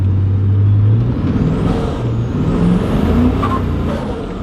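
An R31 car engine with new turbos roars steadily nearby, its pitch rising and falling as it revs under load, with a whirring, boosted character throughout.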